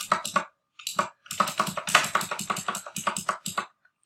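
Rapid computer keyboard typing with clustered bursts of key taps, a short pause near the start, then dense, fairly close clicking continuing almost throughout, with no voices.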